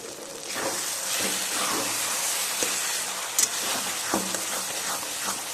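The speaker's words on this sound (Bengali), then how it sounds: "দিয়ে মশলাটা কষিয়ে নেব। মশলা বেটে নেওয়ার জলটা দিয়ে আমি একটু কষিয়ে নেব।" Spices with turmeric and chili powder sizzle in a pan, a continuous soft hiss with light crackles, moderately close and fairly quiet, with no voices.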